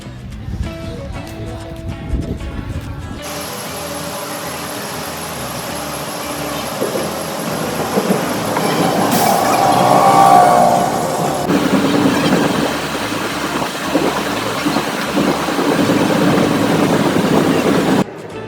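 A steady rumble and rattle of a moving train, loud and continuous, swelling in the middle with a faint high squeal and occasional rhythmic clatter.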